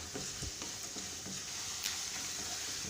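Lentils, grated coconut, garlic, onion and curry leaves frying in a pan for kuzhi paniyaram, a steady soft sizzle with a few light stirring scrapes, fairly faint and continuous with no talk.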